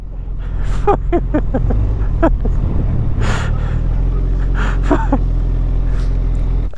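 A supercharged 400bhp Suzuki Hayabusa drag bike at full throttle, its engine note climbing in several rapid revving sweeps over a constant heavy low rumble, loud and close.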